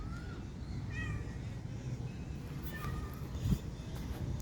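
Cat meowing outdoors in a park, a few short, faint mews scattered over steady low background rumble.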